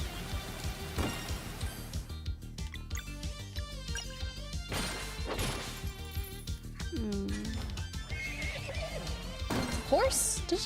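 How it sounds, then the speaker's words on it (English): A horse in the video game Sea of Stars lets out a neigh amid game music and effects, with a person talking over much of it. "Did it just neigh at me?"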